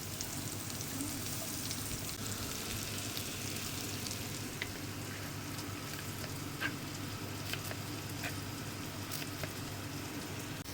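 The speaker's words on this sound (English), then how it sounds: "Add sweet potatoes and cook for 2 to 3 minutes until slightly tender." Sweet potatoes fry in a pan with onion and garlic, giving a quiet, steady sizzle throughout. A few faint clicks of stirring rise above it.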